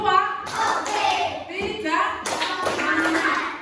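Schoolchildren in a classroom clap in a counted rhythm, a few sharp group claps in a row led by the teacher's count, with children's voices talking over and between the claps.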